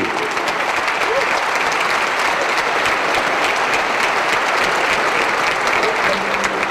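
Loud, dense audience applause during the Philippine President's 2012 State of the Nation Address, an even wall of clapping from start to finish with no letup.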